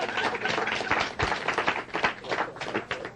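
A studio audience on a talk show claps briefly, a dense patter of hand claps rising and falling over about three seconds.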